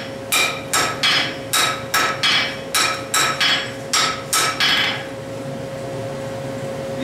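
A quick run of about a dozen ringing blacksmith hammer strikes on the edges of a hot iron bar, evenly spaced, then the pounding stops and only a faint hum remains.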